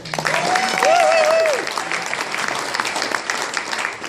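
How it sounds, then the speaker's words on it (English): Wedding guests at a reception give the bride a loud, dense round of applause that swells early and holds steady throughout, with a bright whoop or whistle rising over the clapping near the start. "a big round of applause for the beautiful bride, Shanae."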